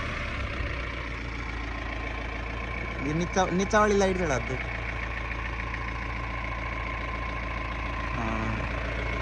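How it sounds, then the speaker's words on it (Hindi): A Mahindra Bolero Camper 4x4 engine idles with a steady low rumble throughout while a person speaks briefly over it. "इसके इंजन की आवाज़ जो ये गुर्राती है गाड़ी"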